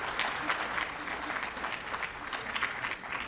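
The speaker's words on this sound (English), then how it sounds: "Let's give them a round of applause anyway" Steady applause from an audience at a legal lecture series event, with dense, continuous clapping at moderate distance and a faint murmur of crowd underneath.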